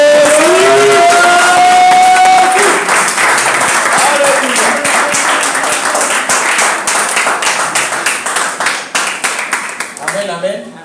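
A church congregation applauds loudly and steadily for several seconds, a dense wash of clapping that thins toward the end, with a voice speaking over the start.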